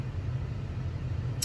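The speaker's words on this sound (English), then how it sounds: "I'm just letting my car warm up for a second." A parked car idles while warming up, giving a steady, close low rumble with even engine hum and a single brief click near the end; no one speaks.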